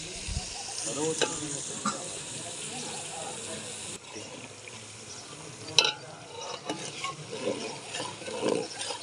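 Tempering spices sizzle in hot oil for a garlic potato dish, a steady close crackling fry with scraping stirs and small pops throughout.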